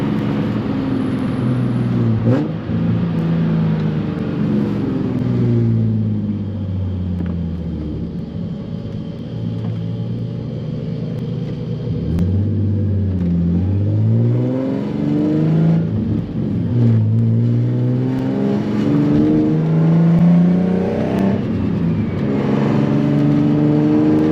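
A turbocharged Nissan 350Z drives on, its loud engine note climbing and falling through repeated rev sweeps and gear changes, with a steady low rumble underneath and no voices.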